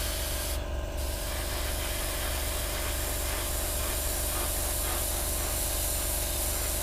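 An airbrush sprays paint onto a 1/48 Hasegawa Harrier GR7 model kit, giving a continuous close hiss with a steady underlying hum that runs unbroken throughout.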